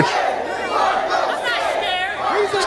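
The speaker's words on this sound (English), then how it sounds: "crowd giving it to him, telling him he's scared." A wrestling crowd at a CCW Chaos event jeers a retreating wrestler, a dense wash of chatter and shouted taunts that fills the hall steadily, with individual voices rising out of the mass of noise.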